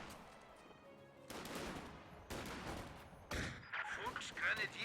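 Bursts of gunfire in Company of Heroes 2 during a match on a custom map, several distinct volleys arriving roughly a second apart, crackling and fairly distant, with rattling shots in the last stretch.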